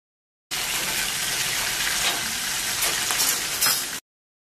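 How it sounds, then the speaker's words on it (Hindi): Fish fries in a pan, village style, browning lightly on each side. A loud, close, unbroken hiss of hot oil runs the whole way through with no voices. "इसी तरह से हम दोनों तरफ से लाइट ब्राउन होने तक फ्राई कर लेंगे"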